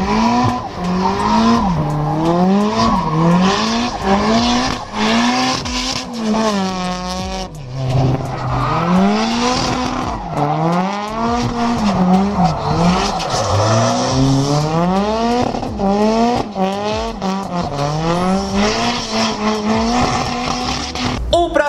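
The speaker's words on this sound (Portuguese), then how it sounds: "Honda Civic tração traseira motor de Silvia" A rear-wheel-drive Honda Civic fitted with a Nissan Silvia engine revs hard in rising and falling waves while tires squeal through a drift, loud and continuous throughout.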